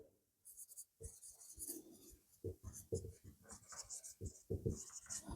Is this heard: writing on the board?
yes